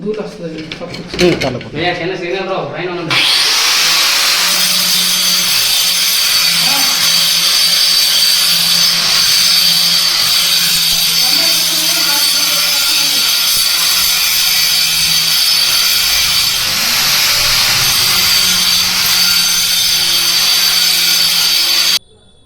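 Power tool fitted with molding blades grinding a granite edge profile, a loud continuous whine that runs steadily for about twenty seconds after a brief start-up clatter, then cuts off.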